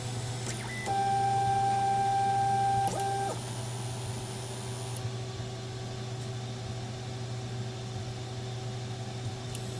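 A 3D printer homing while its hotend is being set up and its heat bed is unconnected; steady stepper-motor whine tones sound for a few seconds over a constant low hum, then fade to a quieter drone.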